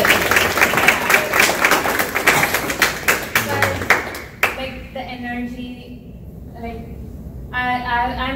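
Audience applause at a university Gandhi Jayanthi talk fills the first four and a half seconds with dense clapping, then stops abruptly, leaving a quieter room where a voice speaks.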